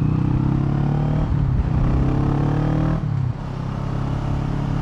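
A Kawasaki Vulcan S motorcycle engine drones loudly and steadily while riding, with a couple of brief pitch dips like gear shifts, and wind rush underneath.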